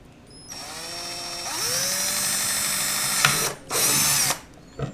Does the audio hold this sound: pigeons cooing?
no